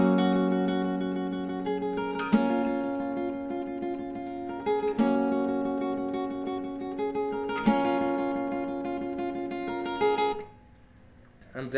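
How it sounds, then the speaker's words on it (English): Acoustic guitar plays the intro riff of a song, strummed chords with sustained ringing harmonics, repeating twice in steady phrases, close and clear with no talking, ending abruptly. "the intro riff sounds like this"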